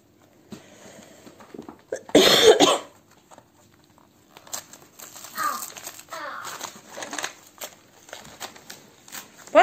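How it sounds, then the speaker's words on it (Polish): Gift wrapping paper on an advent calendar is torn open in one loud, brief ripping burst, followed by quieter crinkling and rustling of paper. "Teraz rozerwij tutaj ten papier."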